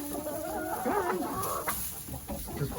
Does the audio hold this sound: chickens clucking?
yes